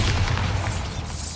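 A Bombarda spell detonates in Hogwarts Legacy, a booming blast with a deep sustained low rumble that fills the whole moment, loud and close, with no voices over it.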